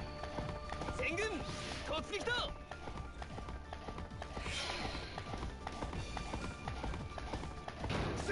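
Steady clip-clop of horse hooves trotting at a regular pace in the video game Samurai Warriors 4 Empires, with a voice talking over it and a brief whinny-like cry early on.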